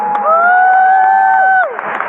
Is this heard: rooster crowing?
no